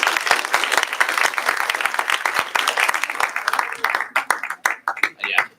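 A church service crowd gives the music team and testimony givers a dense round of applause, steady and close, thinning into scattered individual claps near the end, with voices mixed in.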